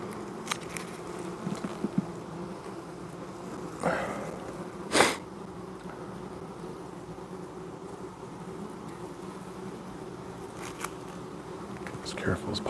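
Honey bees in an open, healthy hive give a soft, continuous close buzz, broken by a few brief handling rustles.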